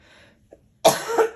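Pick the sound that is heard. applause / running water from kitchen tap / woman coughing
woman coughing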